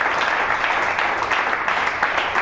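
Church congregation applauding for the Lord during an evangelist's sermon, a dense, steady wash of clapping filling the space without pause, loud and close.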